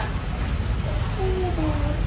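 Rain falling steadily as a dense, loud hiss, with a voice faintly heard underneath.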